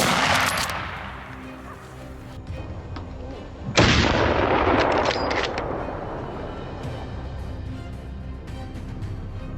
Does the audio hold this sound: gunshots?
yes